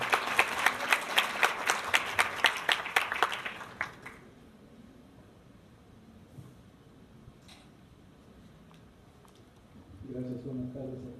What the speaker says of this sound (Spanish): Agradecería a todos dar una bienvenida con un fuerte aplauso.